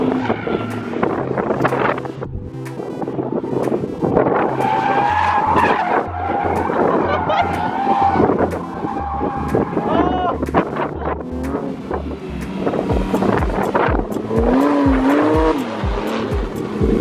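A BMW M2 Competition's tires squeal and skid hard around a retired go-kart race track, with a sustained loud screech and a droning engine running throughout and some talk mixed in.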